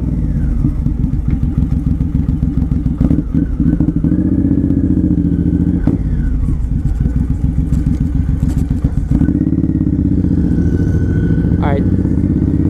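A Suzuki M109R Boulevard 1800 V-twin cruiser motorcycle rumbles through a quick drag race against a Yamaha Raider, its deep, loping exhaust pulses rising and falling through revs and gear changes, close and loud throughout.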